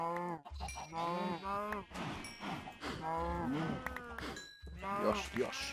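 Cows in the video game Minecraft moo again and again, their low drawn-out calls overlapping one after another almost without a break at moderate loudness.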